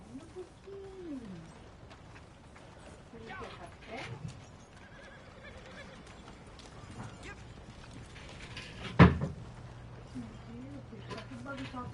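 Horse in the video game Red Dead Redemption 2 whinnying, with soft clip-clop hooves and occasional mechanical clicks, all fairly faint and mixed in with game ambience.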